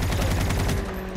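Rapid burst of gunfire in the Call of Duty Mobile battle royale game, a quick run of sharp repeated shots packed into about a second, loud and close, with a lingering tone as it fades.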